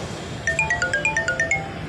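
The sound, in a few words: mobile phone ringing with an incoming call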